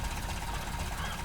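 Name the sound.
modded car engine running in video game Red Dead Redemption 2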